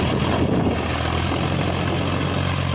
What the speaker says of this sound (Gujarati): મેસી 241 42 એચપીના રેગ્યુલર 578 મોડલ જે કહીએ છીએ આપણે તે ટ્રેક્ટર પર જ અત્યારે ચાલુ છે